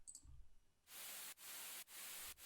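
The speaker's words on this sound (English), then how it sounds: "So here's the white noise I added." Loud hissing white noise added to a music production track switches on abruptly and plays in steady bursts, broken by three brief dropouts, after some quiet low thumps.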